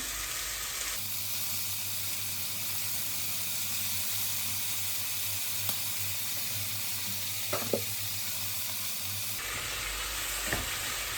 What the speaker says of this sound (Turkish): Şimdi patatesi ekledim. tekrar bir karıştıracağım.